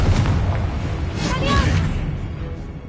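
A Confringo blasting curse goes off in a Harry Potter video game, a sustained booming blast with deep rumble lasting a few seconds, heard alongside character voices.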